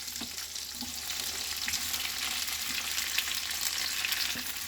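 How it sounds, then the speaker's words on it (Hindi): Onion, capsicum and ginger fry in butter with a little oil, giving a steady, close sizzle that holds evenly throughout, with a few faint clicks of stirring underneath and no talking. "इनको बटर में हम थोड़ा सा रोस्ट कर लेंगे"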